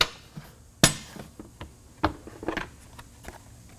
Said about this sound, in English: The first step is just popping the cover off.